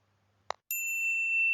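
A bright notification bell ding rings once, holding a clear sustained tone after a short click, alone and fairly loud.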